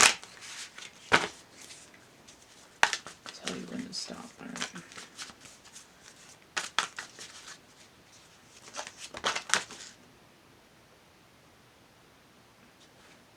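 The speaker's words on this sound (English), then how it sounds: "Just shuffle it and flip it over." Fast riffling card shuffles come in several bursts, crisp and close, with brief talk between them, then the clip fades to near silence.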